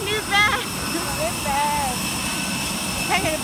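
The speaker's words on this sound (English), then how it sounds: "Going onto the airplane." Airplane engine hums steadily in the background while passengers board, with a child's and adults' voices chattering over it.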